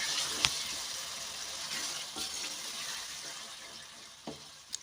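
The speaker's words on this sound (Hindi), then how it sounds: "टमाटर को भी डाल के हमने इसके अंदर अच्छी तरह से मिक्स करना है और भून देना है इसको टमाटर साथ" Tomatoes frying with fish masala in a pan, a soft steady sizzle with occasional light clinks of a utensil stirring.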